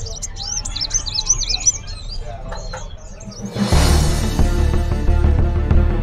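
Many small songbirds chirp and trill at a bird market in Jakarta, busy overlapping calls up close, then the crowd noise and chatter of the market swell loud and dense partway through, with voices talking.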